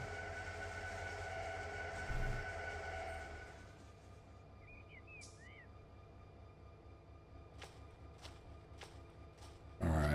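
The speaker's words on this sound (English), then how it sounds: "You can hear the brakes now." Train brakes on a Run 8 Train Simulator locomotive running a local freight, a steady low rumble with a hissing band that fades after a few seconds, a brief whistle-like squeal, then faint periodic clicks and a loud thump at the end.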